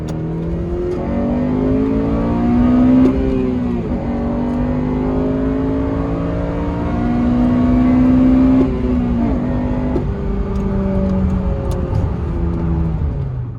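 A Honda Civic FN2 Type R engine revs high and hard from 5,800 to 8,300 RPM, its pitch climbing repeatedly through gear changes in a steady, loud, sustained drone.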